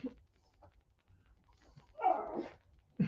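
A pet dog gives a few short whimpering yelps and a brief bark-like burst, close by and fairly loud against an otherwise quiet room.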